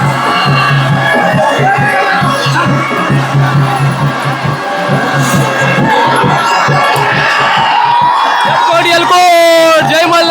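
Dense festival crowd cheering and shouting at the Khandoba devkathi festival in Rave village, with 200-plus-foot ceremonial poles raised; a steady roar of many voices with whoops and a drum-like pulse, rising near the end.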